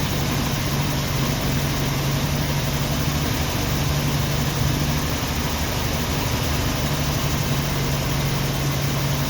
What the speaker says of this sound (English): It's idling, but it's not happy.